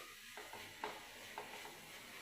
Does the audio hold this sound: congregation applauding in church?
no